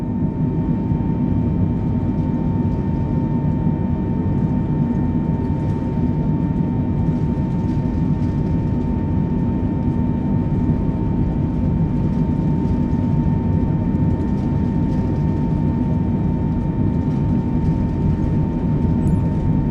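A Boeing 312 airliner at full throttle for takeoff in Microsoft Flight Simulator, a loud, steady engine drone with a low rumble and a constant whine running unbroken throughout.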